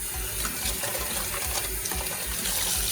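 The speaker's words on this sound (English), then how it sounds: "Still a quick rinse." Tap water runs steadily into a sink while fish is rinsed for fish tea soup, a continuous close splashing flow with no talk.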